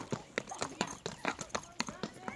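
A real horse's hooves clop on the ground in a quick, regular rhythm of about a dozen sharp, close strikes, while people talk over them in Spanish.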